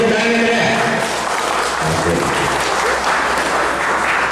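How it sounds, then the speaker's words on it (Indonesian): Audience applause at an Indonesian Independence Day celebration, loud sustained clapping from a crowd that carries on steadily without fading, with some voices mixed into it. "Beri tepuk tangan ya."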